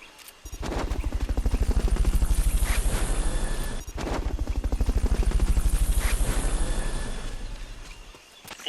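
Helicopter in the video game Metal Gear Solid: Peace Walker, a loud, steady rotor chop that fades in, pauses briefly, then resumes and gradually trails off, with no other sounds over it.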